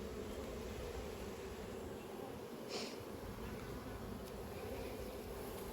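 Honeybees buzzing around an opened beehive during an inspection, a continuous soft hum of many insects close by, steady and faint with a brief knock partway through.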